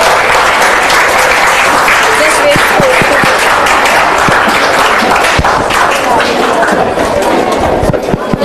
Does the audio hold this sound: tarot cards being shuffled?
no